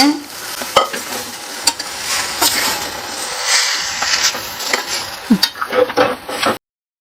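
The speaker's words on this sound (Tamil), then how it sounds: "மசாலா நல்லா கொதிக்குது" Masala with cluster beans bubbles and fries in a pan, making a close crackling sizzle with scattered stirring clicks and spits that ends abruptly, with no one speaking.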